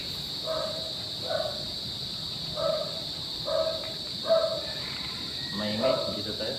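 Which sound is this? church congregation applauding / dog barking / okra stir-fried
dog barking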